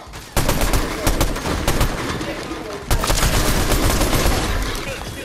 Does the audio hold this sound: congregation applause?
no